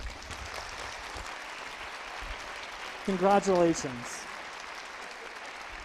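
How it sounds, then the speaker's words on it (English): Crowd applause for graduating seniors at a spring showcase continues at a moderate level, briefly overlapped by a single spoken voice in the middle. "give 8, 10, 12's worth of applause for these great seniors"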